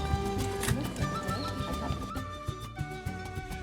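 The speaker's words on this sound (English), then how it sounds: "They proudly display and present to the visiting group their Peruvian horses to the delight of everyone." Peruvian horses shown to visitors at a farm: hooves clop in short, uneven beats with a whinny, set against a busy, steady background din.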